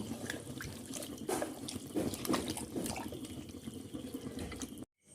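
A little water poured into a cooking chicken curry and stirred in, with a close, steady splashing and trickling that fades out at the end.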